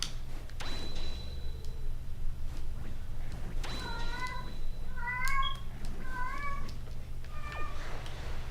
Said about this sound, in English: that cat will not be quiet.